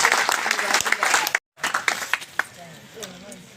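Crowd clapping at an outdoor Haryana rally backing municipal workers, dense bursts broken by a brief gap, then fading under a voice speaking over a loudspeaker.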